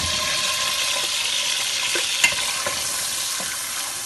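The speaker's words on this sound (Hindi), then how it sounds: "अब हम इसको गर्म ऑयल में डालेंगे।" Chopped ingredients fry in hot oil in a kadai for a Punjabi-style rajma, giving a steady, dense sizzle with a few soft stirring knocks and no voices.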